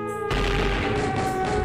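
Gunfire and explosion sound effect under a dramatic poem about the bullets and blasts of colonial oppressors, with dense, loud, continuous bursts and booms filling the whole stretch.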